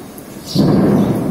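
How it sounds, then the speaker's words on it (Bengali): A deep rumble of thunder rolls in suddenly during an afternoon storm in the month of Boishakh, loud and close, swelling after a quiet start and sustaining to the end. "চারিদিকে মানুষজন নাই আর মেঘের আওয়াজ হচ্ছে, সবাই শুনে।"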